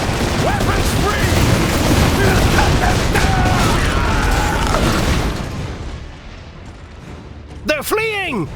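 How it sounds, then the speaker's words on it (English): Artillery explosions in the real-time strategy game Iron Harvest, a dense roar of booming blasts and gunfire that fades toward the end as a voice breaks in. "Artillery inbound!"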